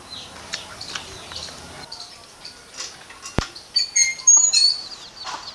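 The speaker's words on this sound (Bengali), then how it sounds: "এই যে খাঁচার ভিতরে রেখেছি পাখিগুলো, দেখুন কত সুন্দর" Caged quail chirp and tweet in short scattered calls, the chirps growing busier and louder toward the end, with a sharp knock midway and faint background noise.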